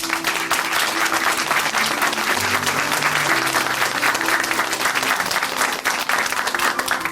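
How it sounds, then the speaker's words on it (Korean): Loud, sustained applause from a church testimony program audience, steady clapping throughout with no break. "박수로 응원해 드리겠습니다"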